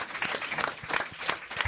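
Studio audience on a French talk show applauding, a short burst of scattered, quiet claps with individual hand strikes standing out.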